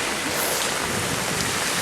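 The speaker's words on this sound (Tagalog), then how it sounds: "Grabe yung lakas ng ulan." Heavy storm rain pouring in Paris, a dense, loud, continuous roar with no break.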